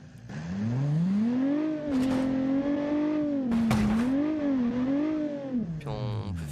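A car in BeamNG Drive drives over ramps with a steady engine drone that rises and dips in pitch, and brief bursts of clattering impact noise occur as it hits the ramps.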